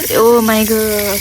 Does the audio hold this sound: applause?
no